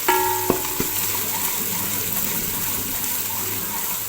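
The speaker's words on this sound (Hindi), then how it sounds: "चिकन को अच्छी तरह से फ्राई करूँगी, लाइट ब्राउन सा फ्राई करूँगी" Chicken frying in oil in a pan at home, a steady bright sizzle throughout with a couple of sharp metallic taps early on, no talking.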